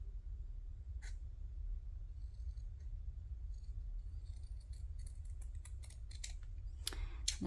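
Scissors cut paper for handmade journal tags. A single snip comes early, then a rapid run of sharp, close cuts near the end over low room noise, with no talking.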